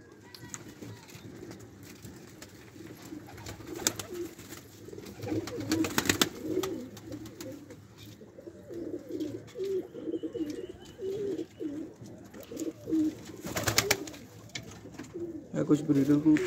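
Breeder pigeons coo repeatedly on a rooftop in low, throaty bursts, close by, with occasional wing flutters and a voice talking intermittently over them.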